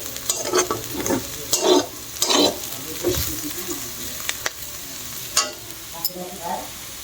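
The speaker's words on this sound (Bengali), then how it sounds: "এখন এই যে আলু ভাজি করছি, ঝুরি ঝুরি করে আলু ভাজি কেটেছি, সেগুলোই করছি এখন।" Shredded potatoes fry in a pan in a home kitchen, giving a steady sizzle broken by several louder bursts of stirring and scraping, close and with no talk.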